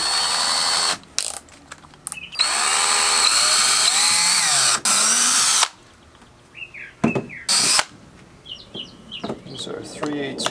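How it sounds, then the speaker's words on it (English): A power drill with a small bit bores a starter hole for a jon boat trailer guide, running in several close, loud bursts whose pitch rises and sags between pauses. "I'm gonna go ahead and start with a small bit just so I can get a nice hole started."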